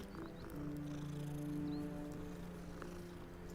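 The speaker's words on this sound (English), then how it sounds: "Only thing I found was a cat." A cat in the video game Hogwarts Legacy purrs with a soft, steady low rumble. The purr runs continuously and close under faint game ambience.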